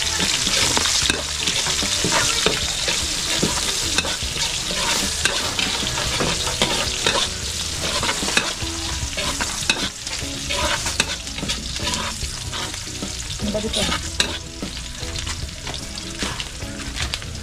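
Onions sauté for igado in a hot pan with a loud, dense, continuous sizzle and constant scraping and stirring, close up, with no talking over it.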